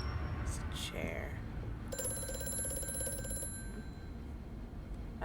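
A telephone rings in the video game Amnesia: A Machine for Pigs, a brief ringing burst of about a second and a half that starts after a few faint murmured sounds, heard over a low, dark ambient rumble.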